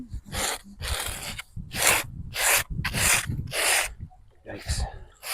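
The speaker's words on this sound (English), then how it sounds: "Let me get the scraper. There's a lot of growth on the back here." A hand scraper is dragged over a surface thick with marine growth in about seven rough, rasping strokes, close and fairly loud, with short pauses between them.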